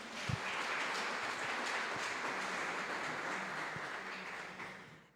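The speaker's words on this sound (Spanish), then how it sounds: "Un fuerte aplauso, por favor." A crowd gives a warm round of applause for a speaker at a national catechesis congress, dense clapping holding steady and then tapering off at the end.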